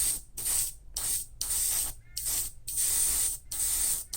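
Airbrush spraying paint onto a scale model airframe at raised pressure, heard as a series of sharp hissing bursts, about seven of them with short silent gaps between, fairly close and loud.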